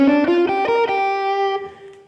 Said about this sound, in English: So the G blues scale looks and sounds like this.